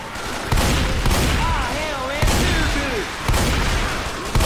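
Gunfire in the zombie shooter Left 4 Dead: repeated loud bursts of shots in clusters, with players' voices talking over the shooting.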